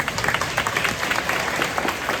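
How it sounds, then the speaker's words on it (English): Dense applause from a roomful of people at a town hall, a steady wash of clapping throughout. "So let's give him a round of applause."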